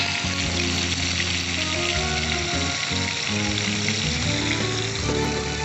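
Ground spice paste sizzles and fries steadily in hot oil, a continuous loud crackling sputter that carries through the whole stretch with no talking.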